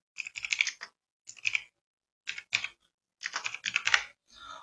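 Computer keyboard keys clatter in short bursts of quick taps as an Aadhaar number is entered, close and crisp, separated by brief pauses, with no talking.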